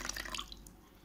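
Water poured into a freshly cleaned clay pot gives soft wet drips and trickles, close and quiet, fading out over about a second with no talking.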